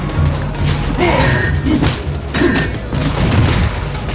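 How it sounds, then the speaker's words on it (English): In a Mobile Legends match, a turret is destroyed in a burst of loud booming explosions and heavy thuds, layered with game effects and music, alongside a faint synthetic announcer voice. "Your team destroyed a turret."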